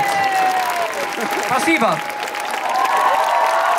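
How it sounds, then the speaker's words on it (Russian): An audience bursts into loud, sustained applause that fills the whole moment, with someone briefly speaking over the clapping. "ваши аплодисменты"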